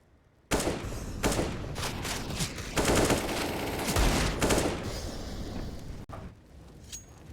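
Gunfire in a competitive Counter-Strike match on the Vertigo map: a loud, dense run of rapid shots and rattling bursts that keeps going for several seconds after a quiet start, then cuts off abruptly.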